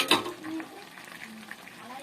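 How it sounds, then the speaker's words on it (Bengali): Hot water is poured into chicken cooking in a pan, producing a brief splash and hiss followed by soft sizzling and bubbling nearby. "তার এই পর্যায়ে গরম জলটা দিয়ে দেবে"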